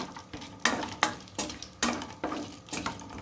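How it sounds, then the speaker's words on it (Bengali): Cashews and raisins stirred as they fry in a pan, giving a series of regular scraping, clinking strokes roughly every half second, close and fairly quiet with a faint sizzle underneath. "দিয়ে দেবো কিশমিশ আর কাজু, দিয়ে ভালো করে এটাকে নাড়ব"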